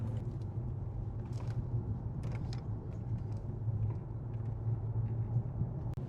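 A Mercedes CLS 500 accelerates on a highway, heard from inside as a steady low engine drone and road rumble at moderate loudness, with no talk.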